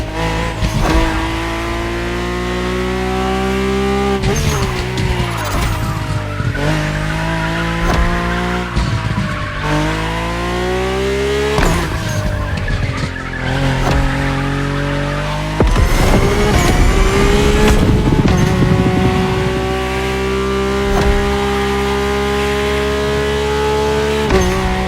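A Mercedes-AMG One hypercar with Formula One-derived powertrain drives hard in The Crew Motorfest. The engine wails loudly through repeated upshifts and revs rising and falling, with tire squeal and skidding throughout, close and continuous.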